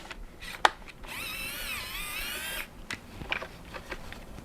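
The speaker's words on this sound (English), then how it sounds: "My screwdriver is working again" A cordless screwdriver backs screws out of a Dreame T20 brush, giving one steady, close, high whine lasting about a second and a half, framed by sharp clicks and handling knocks.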